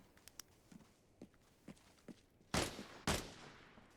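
Two loud, sharp bursts of gunfire ring out close by in the shooter game Arena Breakout Infinite, following a stretch of faint scattered clicks and footstep-like taps.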